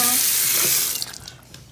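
Water runs from a tap into a sink during handwashing, a steady hiss that cuts off partway through, leaving faint drips and room sound.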